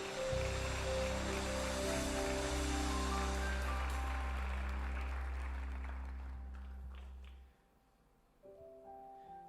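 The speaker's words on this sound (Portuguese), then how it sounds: "Vamos aplaudir Jesus pelos nossos visitantes, por favor." A church congregation applauds in a broad, steady wash of clapping over sustained keyboard tones, then fades out around seven seconds into near quiet before the music resumes.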